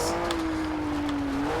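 A 2015 Volvo S60 Polestar in the Forza Horizon 2 racing game drives at speed, its engine holding a steady, slightly falling drone, close and continuous.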